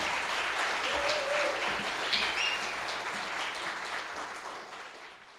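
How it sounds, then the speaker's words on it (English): Applause rises from the audience at a poetry festival in Palm Beach, a broad, even wash of clapping that carries at moderate distance and slowly thins out. "You can give him a big round of applause."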